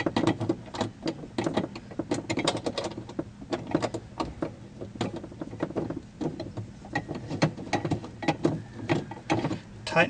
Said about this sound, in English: With a 13 millimeter socket, just get the two nuts started back on.